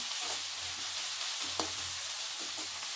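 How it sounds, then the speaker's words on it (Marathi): Garlic and green chilli sautéing in a pan give a steady, soft hiss of frying, with faint intermittent clinks and stirring scrapes up close. "मस्त छान परतलं गेले आहे"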